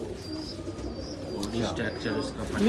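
Soft, low cooing comes from a large, mature pigeon of a cross-bred striped flying breed, kept close by. Someone talks over the birds, and faint chirps sit in the background.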